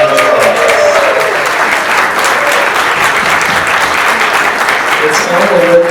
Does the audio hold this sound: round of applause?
yes